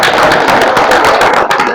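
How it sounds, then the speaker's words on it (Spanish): A political education gathering in Altagracia parish bursts into loud, dense applause for a speaker, with a steady crackle of many hands clapping close by and no voices. "Démosle un fuerte aplauso a nuestro camarada"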